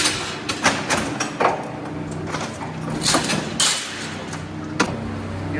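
A sawdust bedding machine running in a cow shed gives a continuous mechanical whir and rattle with intermittent knocks and clunks, moderately loud and close.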